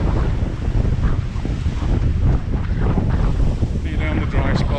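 Sea waves wash onto the shore along a coastal promenade in Mallorca while strong wind buffets the microphone, a steady loud roar with no clear separate breakers.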